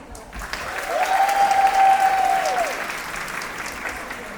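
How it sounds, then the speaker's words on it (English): Audience at a London speaking event applauding as Suli Breaks takes the stage, an even wash of clapping that swells and then eases, with a tonal hum running beneath for a couple of seconds. "Please, a massive round of applause for Suli Breaks."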